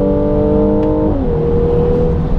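A 2017 Mercedes-AMG GLC43 SUV engine accelerates on a rainy drive, its loud rising tone climbing and then dropping briefly with a gear change before pulling again at a lower pitch, heard steadily from inside the cabin.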